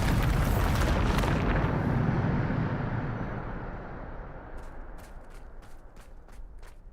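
A Bombarda spell blast in the video game Hogwarts Legacy: one big, roaring explosion at the start that rumbles and slowly fades, with a few light clicks toward the end and no voices.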